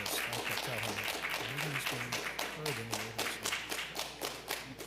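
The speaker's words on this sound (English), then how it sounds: "Ladies and gentlemen, please, no applause." Audience clapping at a city commission meeting, a run of scattered hand claps with a sharp rhythm, mixed with murmured talk from a voice in the room.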